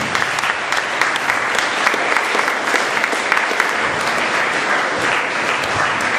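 An audience at a local festival awards night claps vigorously for a guest called up on stage; the applause is close, thick and sustained, with a few sharper claps and slight swells.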